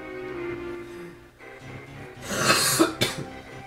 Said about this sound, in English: For coughing?